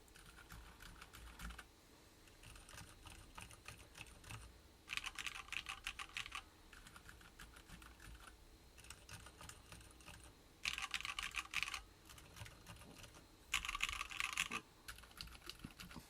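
A mechanical keyboard built with MX Silent Red switches and GMK QMX clips is typed on in quiet, muted bursts of dense, rapid clicks. Short pauses separate the bursts, and no one talks.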